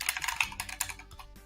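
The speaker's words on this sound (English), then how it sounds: "You're typing fast." Fast typing on a computer keyboard: a quick, irregular run of close, crisp key clicks that thins out toward the end.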